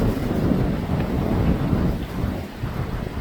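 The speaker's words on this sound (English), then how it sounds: "It's very windy." Strong wind blows outdoors by the water, a loud, continuous low roar and rumble buffeting the microphone, steady throughout with slight swells.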